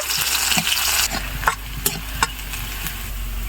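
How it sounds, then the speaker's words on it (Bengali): A large chopped onion fries in oil with whole coriander, a close steady sizzle with spatula scrapes and sharp stirring knocks at intervals, no talk. "বড় সাইজের একটি পেঁয়াজ কুচি দিয়ে দিব পেঁয়াজটার কালার চেঞ্জ হওয়া পর্যন্ত পেঁয়াজটা ভেজে নিব"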